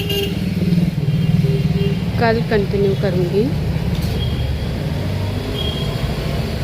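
Busy Mumbai street traffic rumbles steadily, with car horns honking a few times, behind someone talking close by.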